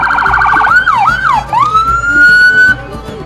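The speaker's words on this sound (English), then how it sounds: "he really likes his siren" A loud siren at a St. Patrick's Day parade wails close by, sweeping up and down in a couple of quick whoops before settling into a long rising tone over low rumbling noise.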